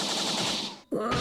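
Luffy's King Kong Gun attack in the mobile game One Piece Bounty Rush lets out a dense, rapid gunfire-like burst, cut by a brief gap and then one more heavy blast, loud and close.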